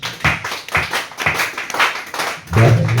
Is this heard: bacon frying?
no